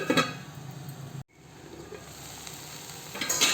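Okra frying gently in a pan over a low flame with no turmeric added, giving a steady close sizzle with stirring that cuts out for an instant partway through, then resumes.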